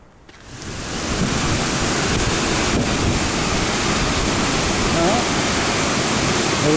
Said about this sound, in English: the falls here should be flowing pretty nicely